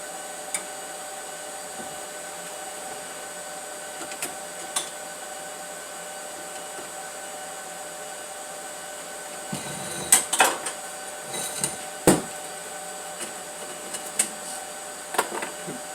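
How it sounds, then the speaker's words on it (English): A power grinder works on the exhaust of a 1974 Plymouth Duster with a slant six engine, giving a steady, moderate motor whine with scattered knocks and clanks that grow busier near the end. "More grinding."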